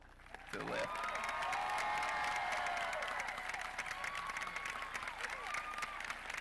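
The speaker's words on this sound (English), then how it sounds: "join us in a round of applause for their accomplishments" A graduation ceremony audience for Galax High School's class of 2022 breaks into loud, sustained applause mixed with cheers and a few shouts, holding steady for several seconds before tapering slightly.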